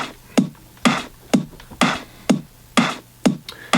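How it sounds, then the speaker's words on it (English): A thinned-out kick drum keeps a steady four-on-the-floor pulse while a clap lands on alternating beats, the two layering into a simple loud electronic drum loop with no voices. "Then add in the clap,"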